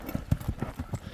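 Horse hooves clip-clopping in a quick, even rhythm, about six soft thuds in a brief moment, fairly faint and close.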